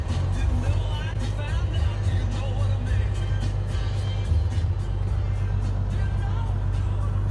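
A classic Peterbilt semi truck tractor pulls away, its steady low engine rumble and drone running loud and close throughout, with faint background voices beneath.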